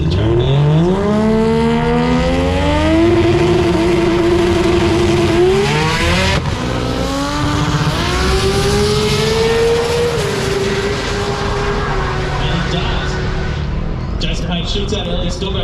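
A drag race car makes a pass at the 2023 Jamboree drag racing event, running a seven-second pass at about 157 mph, its engine roaring loudly and continuously beneath steady excited commentary.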